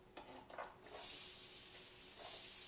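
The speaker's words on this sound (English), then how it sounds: "my butter is starting to brown a little bit and sizzle" Chopped onions drop into browned butter in a pan while cooking okra, giving a soft sizzle and hiss that swells into a steady fry with a short stirring clatter, heard alone at low volume.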